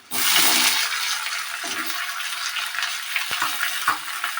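Potato pieces dropped into hot oil give a loud initial sizzle that settles into continuous steady frying hiss, with small crackles and a stir or two.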